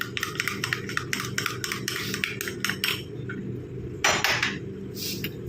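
A spoon stirs a gram flour face pack in a bowl, making quick, rhythmic scraping clinks up close, with a few louder knocks toward the end.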